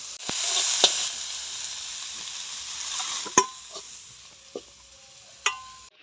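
Leafy greens (saag) frying in a pan give off a steady bright sizzle that fades over a few seconds, broken by several sharp clinks of a utensil against the pan, close up with no talk.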